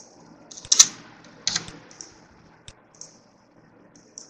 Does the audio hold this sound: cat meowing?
no